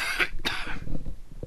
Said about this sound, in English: Don't know why I'm coughing.